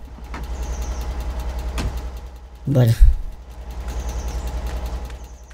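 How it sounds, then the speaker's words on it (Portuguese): Idling truck engine in the video game Alaskan Road Truckers, a steady low rumble running throughout while someone speaks briefly over it. "Eu vou deixar o caminhão ligado, galera."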